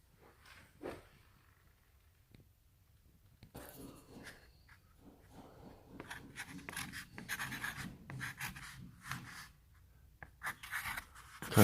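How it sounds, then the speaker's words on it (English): Pen scratching on paper as cornice measurements are written down, a series of faint, close strokes that start sparse and grow busier toward the end. "Let's go ahead and write these down."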